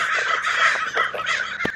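A flock of crows gathered around scattered food in a yard, giving loud, overlapping harsh cawing and squawking calls, dense and close with no talking.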